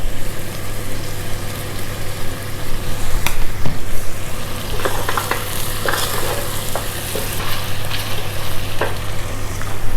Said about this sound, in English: A little stir to our Gassi sauce.